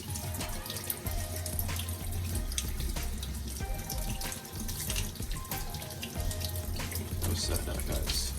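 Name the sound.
tap water running while washing ginger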